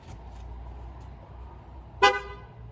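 A single loud honk from a replacement main horn on a Ford Escort sounds near the end, short and brassy, over a low steady engine rumble.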